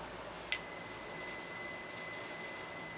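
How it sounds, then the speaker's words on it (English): A single bell is struck once, giving a bright ringing tone with clear overtones that slowly decays over a few seconds against a quiet background. "I'm gonna ring the bell here."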